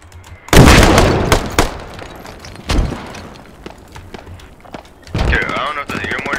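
Mortar rounds land in the military shooter Squad as heavy, booming impacts, three big thuds spread a few seconds apart, while players talk over voice chat between them.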